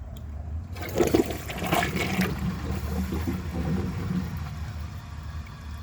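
A 2009 Gerber Avalanche toilet flushes a small dish towel. A loud, close rush of water swirls and gurgles down, then settles into a steady draining wash with no talking.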